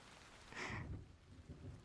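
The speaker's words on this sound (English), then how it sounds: "I hope the rain was keeping you guys company." Soft, steady rain falls with a faint low rumble of thunder swelling briefly midway. The whole storm sounds quiet and distant, with no voices.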